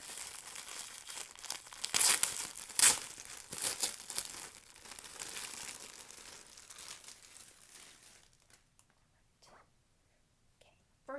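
Plastic wrapping crinkles and crackles in close, irregular bursts while the goods from an unboxed blanket set are handled. Quiet breathy voice sounds sit under it, and the rustling fades to near silence for the last few seconds.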